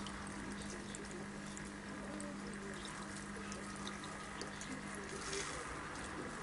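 An All Pond Solutions 600-HO hang-on aquarium filter running in a fish tank, giving a steady, even trickle and pump hum of flowing water with no talk.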